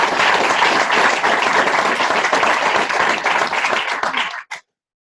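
Loud, dense applause from an audience at a school board meeting, continuous for about four seconds and then cutting off abruptly.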